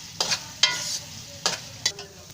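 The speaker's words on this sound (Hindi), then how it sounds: "इसको अच्छी तरह से मिक्स करेंगे। इसका चम्मच हिलाते रहना है, नहीं तो ये नीचे लग जाएगा।" A spoon stirs poppy seed halwa with cardamom in ghee, giving a few sharp scraping strokes against the pan over a soft, steady sizzle.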